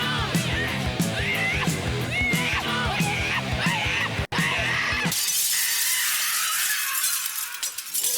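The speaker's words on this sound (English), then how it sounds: "The glass shattering." Glass shatters in a hard rock song, a crash of breaking glass inside the loud, dense music, and the song then drops away to leave a bright, crackling shatter.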